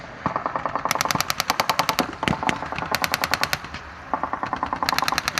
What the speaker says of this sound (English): Behind them, armoured car with machine guns come forward.